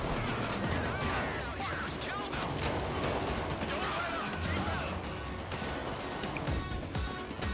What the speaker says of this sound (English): Sentry gun here. Sentry gun set up.